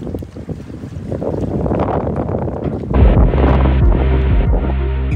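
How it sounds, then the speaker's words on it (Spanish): Strong gusting wind, around 20 mph, buffets the microphone at a boat marina, a loud continuous roar with a heavier surge near the end and no talking. "Y miren cómo soplaba ese viento."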